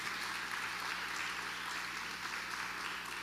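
A church congregation applauds during a service, making a dense, continuous wash of many hands clapping that holds at an even level throughout, with no speech.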